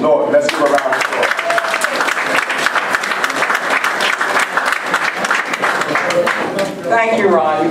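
Audience applause at a press conference grand opening, loud sustained clapping from a crowd lasting several seconds, with voices and a speaker talking over it near the start and end.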